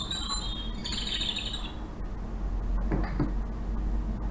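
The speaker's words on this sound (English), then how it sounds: "that's my 11 o'clock bird chirping" A pet bird chirps and squawks close by in an indoor room, giving a few short bright calls over a low background hum, with no talk.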